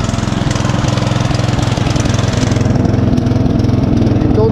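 A small tractor engine runs roughly nearby, its loud chugging idle pulsing unevenly and steadily throughout.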